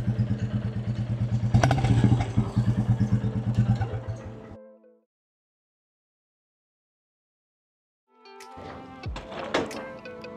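A Royal Enfield Bullet J Series motorcycle with an aftermarket Indori exhaust thumps close by, its engine sound fading out to silence and then returning with a rapid clattering beat.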